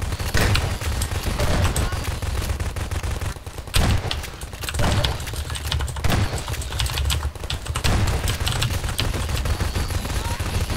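Video game shotgun and SMG fire, with dense rapid bursts and sharp single blasts crackling almost nonstop and close, mixed with game effects.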